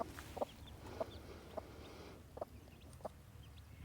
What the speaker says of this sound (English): Meet our lovely new chicks.